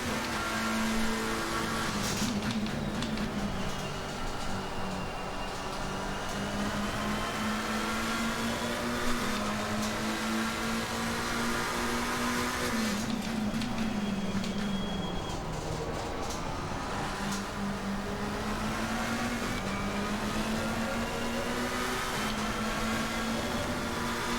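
A McLaren 720S EVO race car engine drones steadily around Silverstone in the racing game Assetto Corsa Competizione, its pitch climbing and dropping through gear changes in a continuous loud run without talk.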